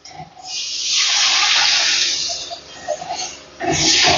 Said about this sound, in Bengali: এখন দিয়ে দিচ্ছি আমি জল।